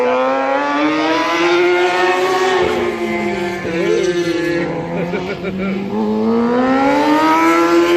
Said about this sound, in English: super stock 1000, one or more Yamahas that come through with our engine and our exhaust